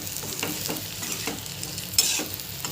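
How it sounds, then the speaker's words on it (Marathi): Bitter gourd pieces for stuffed karela frying in oil in a pan, a dense close sizzle with rhythmic stirring scrapes and one sharper clatter near the end, no voices. "छानपैकी हे सर्व तुकडे फ्राय झाले पाहिजेत"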